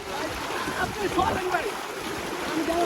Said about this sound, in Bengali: এই হঠাৎ করে স্রোত বেড়ে গেছে